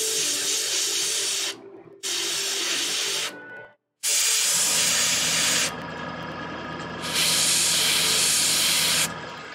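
An airbrush sprays red paint onto a Games Workshop Warhammer 40K Magnus the Red miniature, giving a loud, close, steady hiss in several bursts separated by short silent pauses.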